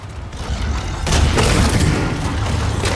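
A combustor grenade blows up in The Callisto Protocol, a heavy boom erupting about a second in and rolling on as a loud rumbling roar with crackling debris, following a quieter mechanical stretch.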